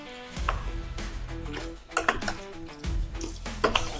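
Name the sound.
stirring chili ingredients in a crock pot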